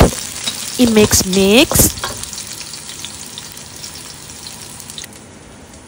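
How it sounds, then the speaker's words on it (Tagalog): Onions and garlic dropped into hot cooking oil give a loud sizzle that is strongest early on, partly under a brief voice, then settles into a steady hiss that slowly fades. "Magpainit ng mantika, ilagay ang onions at garlic"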